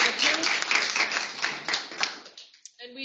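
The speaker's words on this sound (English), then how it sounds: "We'll give our colleagues a round of applause." Audience applause at an academic library book launch: a dense burst of many hands clapping, fairly loud and close, that tapers off over about two and a half seconds and then fades to near silence.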